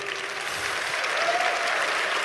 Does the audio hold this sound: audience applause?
yes